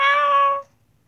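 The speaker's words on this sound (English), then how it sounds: "The cat, Bob" A house cat gives a single clear, tonal meow lasting about half a second, close and fairly loud, then cuts off into near silence.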